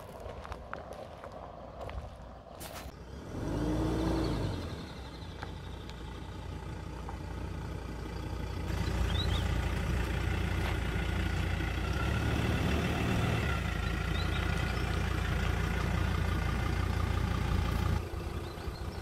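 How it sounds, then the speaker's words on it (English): A vehicle driving in and maneuvering at a campsite in Taroom, Queensland, with a continuous low engine rumble that swells as it moves and reverses, steady and fairly close, with no talking. "So he's going to back it up, and I think he's going to come over here and swing around."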